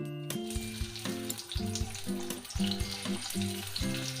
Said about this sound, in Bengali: তেলটা গরম হতে দিয়েছি, এবার আমি ঢেলে দেবো পেঁয়াজ।